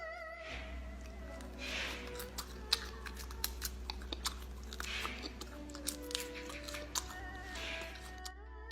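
Crunchy dried or fried centipede is chewed close up, with repeated crisp crackling bites and munching over a low steady background hum.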